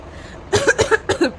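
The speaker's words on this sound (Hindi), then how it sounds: "खांसी अभी तक ठीक नहीं हो रही है" A person coughs three times in quick succession, close and fairly loud, against a quiet background.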